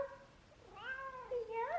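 A pet cat meows indoors, two drawn-out, rising and falling calls close by, the second louder and more insistent, with no talking over them.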